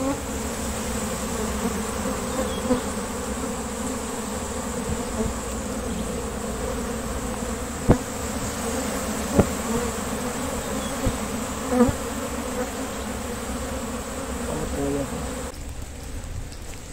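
Dense, steady buzzing of many bees swarms around beehives and nucleus colonies during colony splitting, a continuous close drone lasting throughout with a few faint knocks and no talk.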